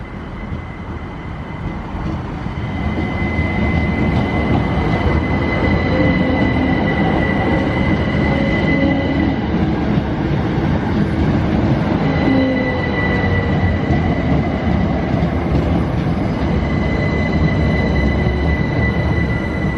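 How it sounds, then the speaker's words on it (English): A local train rumbles steadily through a station at close range on the Thames Valley line, with wheels grinding and squealing on the rails and a sustained high metallic tone over the roar. "There's a local train."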